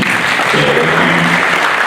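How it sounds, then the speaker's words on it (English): A conference audience gives a round of applause for a state assembly chief whip, a steady, loud wash of clapping that holds throughout. "Please, a round of applause for him."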